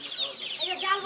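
Chickens clucking at a poultry market in Atibazar, close, repeated chattering clucks and squawks filling the brief moment.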